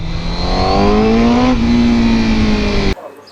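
A Honda CBR1000RR-R Fireblade sport motorcycle engine revs loudly up close, the pitch climbing and holding steady before cutting off abruptly.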